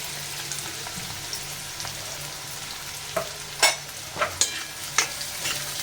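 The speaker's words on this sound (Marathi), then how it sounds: "कांदा छान असा परतून द्यायचा इथे." Onions frying in hot ghee and oil with whole spices while cooking dahi chicken, a soft steady sizzle with several sharper stirring scrapes and clinks in the later part.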